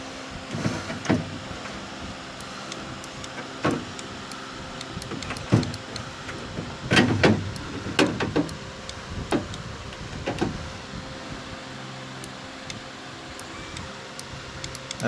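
Power window motor inside the door of a Ford F450 ambulance under repair, several short whirring runs mixed with clicks and knocks from handling the door, close and fairly loud.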